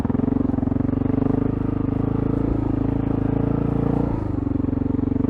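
A Honda XR650L dual-sport motorcycle churns through deep sand, its engine a steady, close, loud thumping drone with a slight dip and recovery near the end, with no voices.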